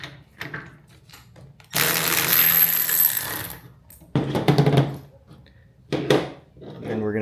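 A ratchet with a 13 mm socket loosens a bolt while a heavy roller is fitted to an 18-inch PRO reelCNC reel mower, giving a long loud clicking run followed by two shorter bursts, with someone talking between them.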